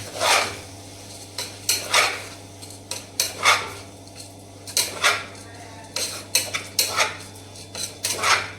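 Rice being sautéed with turmeric in a pot: repeated scraping and clinking of a metal spoon against the pot in irregular strokes, close and fairly quiet, over a low steady hum.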